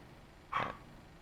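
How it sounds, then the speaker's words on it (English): A Pomeranian dog gives a single short, fairly faint bark midway through an otherwise quiet stretch, with no talking. "that's my dog, Quincy. He's a Pomeranian"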